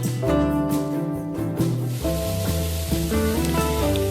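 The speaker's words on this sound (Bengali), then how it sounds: "আলুগুলো ভাজা হয়ে গেছে, তুলে নিচ্ছি" Oil sizzles and crackles as potatoes fry with turmeric, a continuous hiss running underneath louder instrumental music.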